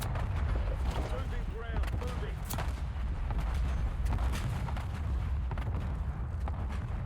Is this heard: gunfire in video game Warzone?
yes